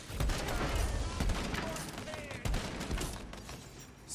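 A magic barrage spell in Tiny Tina's Wonderlands unleashes a rapid string of crackling, explosive impacts, a dense fusillade of bursts over a busy, moderately loud battle backdrop.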